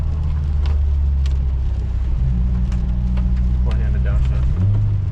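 A car engine rumbles loudly and steadily through a one-handed downshift, its low drone shifting pitch partway through as the gear changes and revs settle, with a misfire condition noted and faint voices under the engine.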